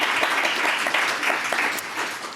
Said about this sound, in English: Please give him a round of applause just for that.